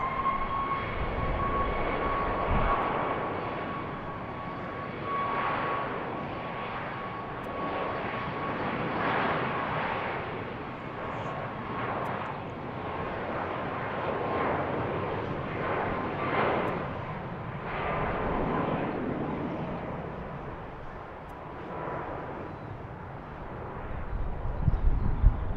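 United Boeing 737 MAX 8 airliner taking off, a steady roaring engine rush that holds loud and broad for the whole stretch, swelling and fading slightly with a brief gusty surge near the end, no voices.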